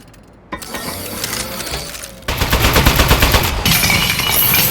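A turret in the video game Aperture Desk Job opens fire in rapid automatic bursts, loud and close, with metallic rattling and clattering that grows denser and harsher toward the end.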